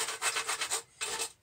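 A hand rasp files back and forth in steady strokes, five rhythmic rubbing passes, a short pause, then one more stroke, close and fairly quiet with no voices.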